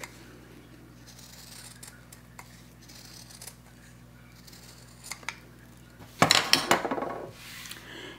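Scissors snip through a fused fabric quilt piece for a fan block, cutting along a marked line; a short burst of close, crisp cuts arrives near the end after quiet handling and a low steady hum.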